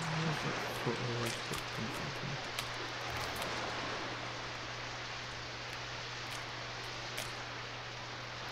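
Steady hiss of rain falling in a video game, with a low constant hum beneath and a few faint tones early on; no speech.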